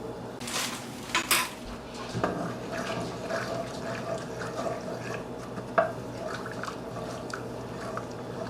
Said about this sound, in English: So use a wooden spoon to scrape the bottom of the pan, but of course I use the fork